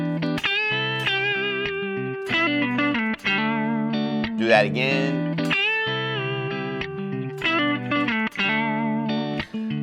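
An electric guitar with distortion plays a pentatonic lick over a chord progression, sliding and hammering between notes in quick phrases with one bent note. A voice speaks briefly near the start.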